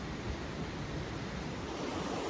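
Steady rushing water of a river in rainy, rocky hill country in Arunachal Pradesh, a dense, even wash of flow close by with no other sounds over it.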